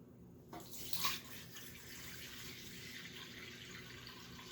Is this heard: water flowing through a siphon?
yes